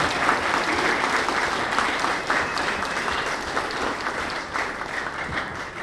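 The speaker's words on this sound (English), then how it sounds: "Let's start by just giving everybody a big round of applause for working so hard." A large audience applauds at a martial arts black belt promotion ceremony for the students, sustained dense clapping that holds steady for the whole stretch and eases only slightly toward the end.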